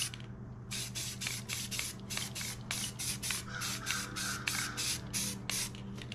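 Dark navy blue spray paint is spritzed from a can in short repeated bursts, a rapid series of brief airy hisses, fairly close and moderately quiet, with no one speaking.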